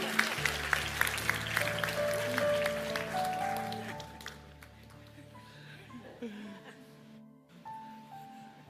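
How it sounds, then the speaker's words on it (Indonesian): A church congregation applauds with a burst of clapping that gradually thins out, with some laughter and a voice speaking over it toward the end. "Tepuk tangan dulu"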